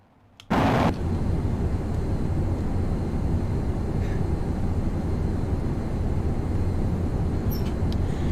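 Afterburning jet engines of an aircraft in Flight Simulator X, a loud, steady, broadband roar that kicks in abruptly after a brief quiet start and holds constant with no talk.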